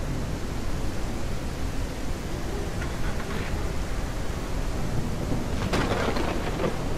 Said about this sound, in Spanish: Qué tormenta